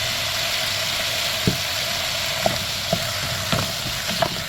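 Spices stirred into a pan of frying meatballs and potatoes, a constant close sizzle with a low background hum and a few sharp scrapes and taps of the utensil against the pan, no talking.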